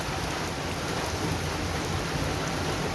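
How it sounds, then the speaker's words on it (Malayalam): Steady, dense rain pours down continuously, a loud even hiss with no gaps and no voices. "ഇങ്ങനെ മഴ കാണുമ്പോൾ ഇങ്ങനെ ഇറങ്ങി കളിക്കാനും നടക്കാനും ഒക്കെ തോന്നുന്നു"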